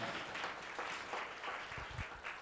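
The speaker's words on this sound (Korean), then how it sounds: "우리 다시 한번 우리 청년부 임원들 위해서 격려의 박수 부탁드립니다" A church youth congregation gives encouraging applause to its officers, an even patter of many hands clapping, soft and somewhat distant, lasting the whole time.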